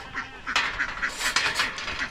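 Several caught farm ducks quack and honk in quick, overlapping bursts, close and fairly loud, on a hot summer day with no talking.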